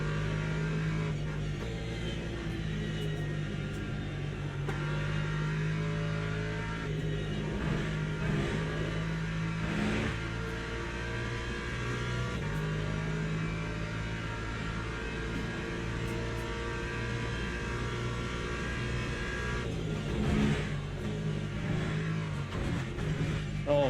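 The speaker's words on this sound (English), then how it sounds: "Oh my God. That hypercar." A hypercar in the Le Mans Ultimate racing game drones under a continuous engine note, rising and falling with throttle through a long stretch of track driving, steady and fairly loud, without talk.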